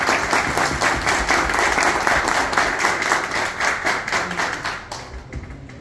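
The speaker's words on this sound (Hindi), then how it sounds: "આપણા બધા મોરબીના ડીલર ભાઈ માટે એક જોરદાર તાળીઓ" Loud, dense applause from an audience of dealers from Morbi at a corporate event, steady clapping throughout that thins slightly toward the end.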